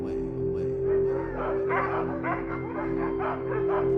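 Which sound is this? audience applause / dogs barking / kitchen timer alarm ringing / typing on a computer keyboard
dogs barking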